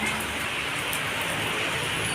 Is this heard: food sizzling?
no